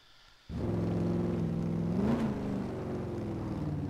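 An Aston Martin engine driving at Silverstone in the Project CARS racing game, cutting in abruptly after half a second as a steady, near droning hum with a brief rise in pitch around the two-second mark.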